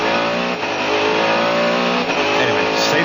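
A Mercedes CLR race car engine drives at speed on a racing circuit, a loud, sustained, high-revving roar with slight pitch shifts throughout, close and dominant, with commentary talk likely mixed underneath.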